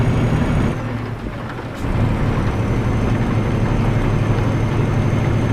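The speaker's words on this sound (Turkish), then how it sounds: "Evet, yağışlı bir güne uyandık." Steady rain hisses and a deep rumble rolls in Euro Truck Simulator 2, heard from a DAF XG Plus truck. The noise is loud and constant, briefly dips, then swells back and carries on with no talk.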